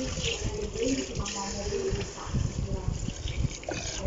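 Water runs and splashes as rice is rinsed in a pot before cooking for stuffed zucchini, a continuous close sloshing with a person speaking over it.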